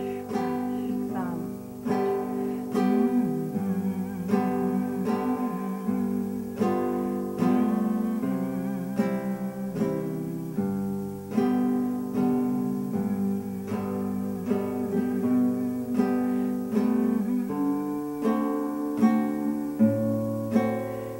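Acoustic guitar plays Amazing Grace in a thumb-brush strumming pattern, a steady bass note followed by two brushed strums, repeated evenly and close up with no talking.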